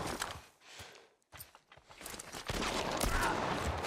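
Gunfire from The Last of Us bursts in several sharp, close shots and short volleys, with a brief quiet gap before a denser, louder stretch of rattling fire and scuffling movement.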